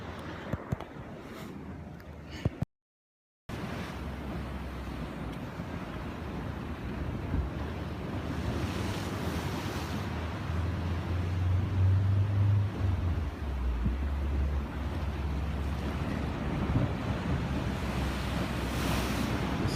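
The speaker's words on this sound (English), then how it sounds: "Just out here seeing some waves." Ocean surf rolls and crashes steadily at Ocean Beach in San Diego, a loud continuous wash of breaking waves with heavy wind buffeting the microphone and a brief dropout near the start.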